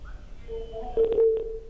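Telephone line tones sound as a caller joins a live call-in broadcast: steady electronic beeps and a sustained tone under a low hum, with no one speaking over them.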